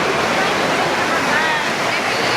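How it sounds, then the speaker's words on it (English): Heavy rain pours down outside at a livestock stock show, making a loud, dense, continuous hiss with no breaks and no speech. "it is pouring down outside"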